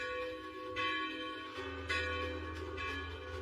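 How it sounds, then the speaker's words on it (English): A church bell rings in an anime movie, its resonant strokes repeating about once a second over a humming, sustained background with no voices. "Wait, that's the bell, right?"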